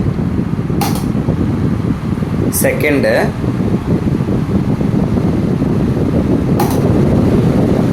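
Steady whirring airflow of an Orient table fan running continuously, with a few brief clicks and a short spoken word over it.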